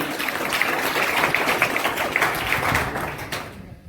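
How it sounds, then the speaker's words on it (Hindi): Applause in a school hall welcoming a class 10 student speaker, a steady dense patter of many hands clapping that fades out at the end. "जोरदार तालियों से उनका स्वागत"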